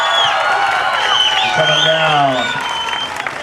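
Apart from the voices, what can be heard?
audience applause at a surfing hall of fame ceremony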